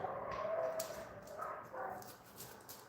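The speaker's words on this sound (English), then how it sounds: "These dogs barking everywhere. Hey! German Shepherds, always on that." German Shepherd dogs bark outside, somewhat distant and faint, giving several scattered barks and yips with whimpering tones.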